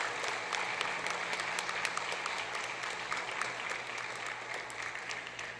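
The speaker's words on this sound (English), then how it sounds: "lusty round of applause?" Adults at a sports league prize-giving ceremony applaud standing student athletes, a steady, fairly faint patter of many hands clapping at a distance for several seconds.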